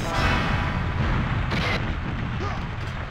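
Rockets exploding against a tank in the video game GoldenEye 007, a loud, dense rumbling barrage of booms and blasts that continues through the whole moment.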